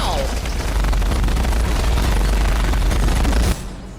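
War Machine's guns fire in a sustained heavy burst in a video game battle, a loud dense rattle with deep booms that cuts off sharply near the end.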